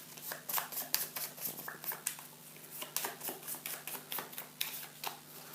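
Board game cards being shuffled together, a rapid series of crisp riffling clicks and snaps repeating steadily, close and fairly quiet over a faint background hum.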